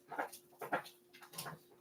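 Dog named Maui whimpering: three short, close, high-pitched whines spaced evenly, each a brief quiet yelp, with no talking.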